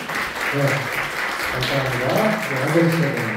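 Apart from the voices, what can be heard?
congregation applauding to welcome newcomers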